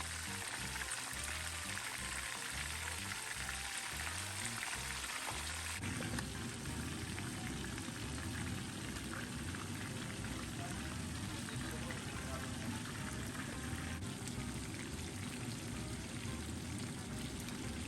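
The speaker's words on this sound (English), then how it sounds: "we're just gonna add our fish and let them fry golden on both sides" Fish fries in hot oil for a Jamaican brown stew, a dense, steady sizzle with crackling bubbles that fills the whole stretch and shifts in texture partway through.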